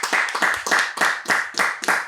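A few people clap together in a podcast studio, about eight crisp, closely spaced claps in a steady rhythm, near and clear with no talking.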